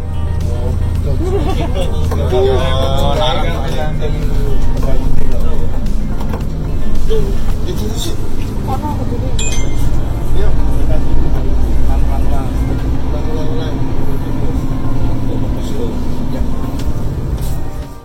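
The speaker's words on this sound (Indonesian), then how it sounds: "Dan nilai lebih dari mesin Hino RM280 ini ada di suara raungannya yang terdengar sangat halus" A Hino RM280 bus chassis engine roars steadily and smoothly under the whole stretch, a low continuous drone with a voice talking over it throughout.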